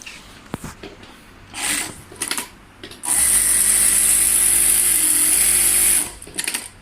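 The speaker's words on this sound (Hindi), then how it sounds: "तो अभी मशीन आपके सामने चलाते हैं।" An industrial sewing machine runs in a steady, loud, whirring burst of about three seconds, with scattered clicks and handling knocks before and after it.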